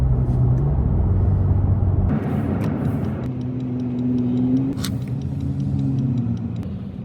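A third-generation Toyota Tacoma driving, with a steady engine rumble and road noise heard from inside, its engine note shifting as it goes.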